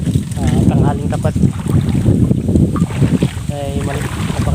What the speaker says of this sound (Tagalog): ay napakalakas ng hangin dito sa Abuan River.